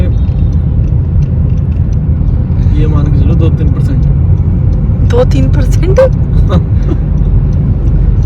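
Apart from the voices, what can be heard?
car being driven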